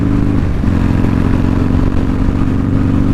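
A passing motorcycle gives a loud, close, continuous engine roar with a clattering, revving edge that stays strong throughout.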